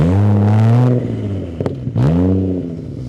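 Nissan R32 GT-R with a 600 hp engine cranking and catching, revving loudly, dropping back briefly, then flaring into another hard rev up close, with no talking.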